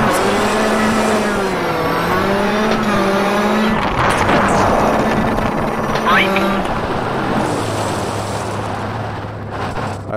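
A rally car in Richard Burns Rally revs hard under full throttle, the engine note climbing and dropping through gear changes with a loud, continuous roar, then settling to a lower steady drone.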